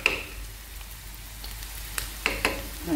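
Garlic sizzling in oil for chard and cheese stuffed bread, a soft continuous fry with a handful of sharp spatters and stirring clicks, close and with no talk.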